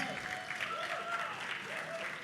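Audience applause at a Bollywood song launch event, a steady wash of clapping from a crowd filling the short moment, with a faint voice briefly heard over it.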